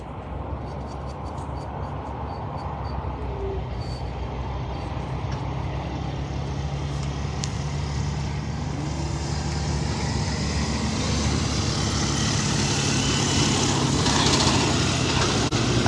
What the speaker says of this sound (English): Oh, there's a truck going by.